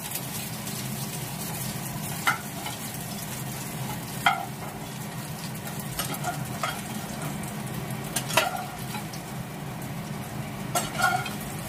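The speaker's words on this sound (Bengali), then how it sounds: "এবার আমার আলুটা ভাজা হয়ে গেছে।" Potato chunks fry in hot oil for a vegetarian aloo dum, giving a steady broadband sizzle with a few sharp clinks of a utensil against the pan.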